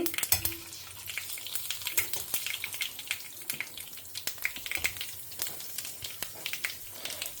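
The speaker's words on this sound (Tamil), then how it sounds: "கடுகு பொரிய ஆரம்பிச்சு எடுத்து" Mustard and fenugreek seeds crackle and pop in hot oil, a dense run of sharp spluttering bursts over a steady sizzle, close and continuous.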